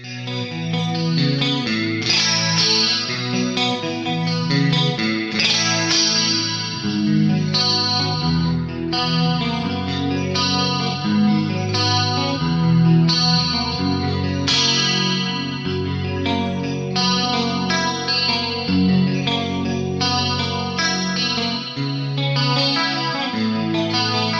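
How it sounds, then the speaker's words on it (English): Clean electric guitar through a Fractal VP4 and Headfirst ALTA P1 plays continuous shimmering 80s-style chords and arpeggios, washed in wide four-voice detuned chorus and lush reverb, with no voices. "I've got a 1210 style chorus, I've got 4 voices of detune on there"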